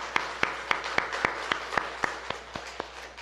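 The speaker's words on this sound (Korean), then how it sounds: "하나님 앞에 큰 박수로 한번 영광 올리겠습니다" A church congregation claps together during a Sunday service, giving a slow, evenly spaced run of about a dozen distinct hand claps over a soft room hum.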